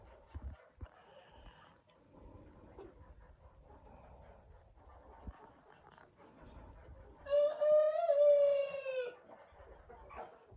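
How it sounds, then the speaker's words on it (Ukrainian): Broody hens cluck in low, scattered bursts at close range, followed by a drawn-out, louder tonal call from one bird. "Це, мабуть, була дурня принести сюди три квочки."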